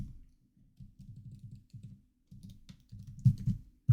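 Keys clatter on a computer keyboard in quick close bursts of soft clicks, pausing briefly between runs, with a few sharper taps near the end.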